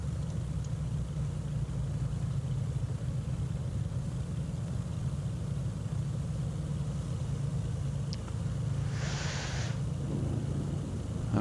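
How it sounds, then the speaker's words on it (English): Left engine of a light aircraft starting and idling in a flight simulator game, a low steady droning rumble with a brief hiss partway through, fairly quiet and unbroken. "And we'll start the left engine."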